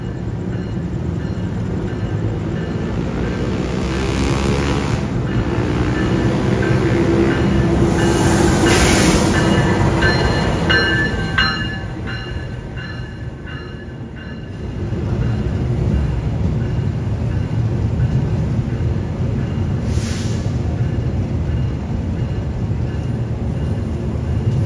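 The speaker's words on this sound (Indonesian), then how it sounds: "sudah nampak sorot lampu kereta Argo Anjas Moro yang akan segera masuk di jalur 1" Argo Anjasmoro executive train pulling into platform track 1 at a station, a steady rolling rumble with wheel and rail noise swelling mid-clip, then settling to a continuous low drone, with no talk over it.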